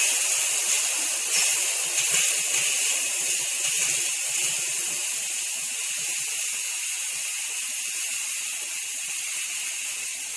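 A De'Longhi ECC221 espresso machine's steam wand purges leftover steam, giving a loud, continuous high hiss that holds steady and eases off slightly over about ten seconds, with no voices.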